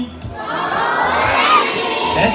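A large audience of children at a zoo animal show shouts and cheers together in a loud, sustained burst that swells for about two seconds.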